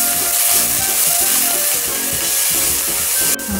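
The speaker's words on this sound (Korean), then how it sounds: "올리브오일 살짝만 두르고 이렇게 두르고요. 양파 많이 넣고 소금 좀 넣어주고" A pan of plenty of onions with a pinch of salt fries in a little olive oil over medium heat, giving a continuous close crackling sizzle with faint stirring and no voices.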